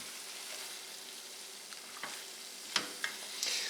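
Soft sizzling of cabbage skillet sauce in a pan, with a few quiet scrapes and taps as it is stirred, faint and close with no talking.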